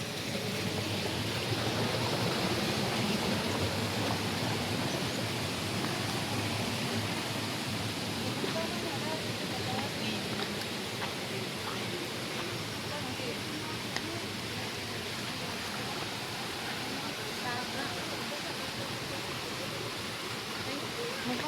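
Water pours steadily from a cold-water faucet at Mainit hot spring in Caibiran, Biliran, a broad, constant hiss-like rush close by that goes on without a break.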